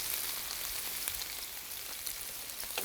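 Four quail cook breast side down in a pan, a continuous close sizzling crackle with small spitting pops scattered through, steady and alone.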